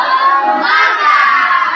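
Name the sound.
children clapping and shouting in a spirit cheer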